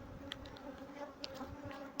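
Honey bees swarming around an opened hive on a Pakistani bee farm, a soft continuous buzz with individual bees darting close by in brief, brighter passes, no voices.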